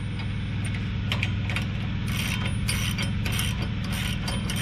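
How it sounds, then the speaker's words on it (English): A wrench tightens a nylon nut on a hitch receiver, giving a close, steady ratcheting click over a constant low mechanical hum with brief metallic ticks throughout. "I don't know if it's necessary for y'all to watch me tighten this up or not"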